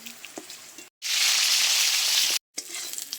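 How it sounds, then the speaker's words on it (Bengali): Flat beans (shim) hit hot oil and sizzle loudly for about a second and a half, a dense bright hiss set between quieter stretches of faint crackling and clinks from the pan. "এবারে আমি শিমটা ভেজে নেব।"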